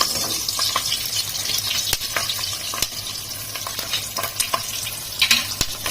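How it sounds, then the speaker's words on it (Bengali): Whole cumin seeds and four green chillies sizzle in oil left over from frying fish, a close, continuous crackle broken by sharp scrapes and clicks of stirring. "এই মাছ ভাজার তেলেই আমি সামান্য গোটা জিরে সম্বার দিয়ে দিলাম আর এর মধ্যেই চারটে কাঁচা লঙ্কা দিয়ে দিলাম"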